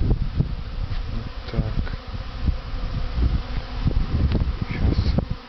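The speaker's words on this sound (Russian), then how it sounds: "пчела сегодня облетывается" Honeybees on an orientation flight around their hives in late August make a dense, continuous buzz close by. A voice briefly speaks under the swarm.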